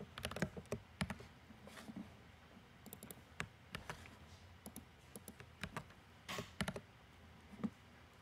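Keys clatter on a computer keyboard as a filter query is typed, quiet uneven bursts of clicks with short pauses between words.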